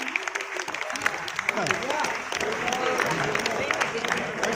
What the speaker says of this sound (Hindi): ताली बजाते स्वागत करें भैया।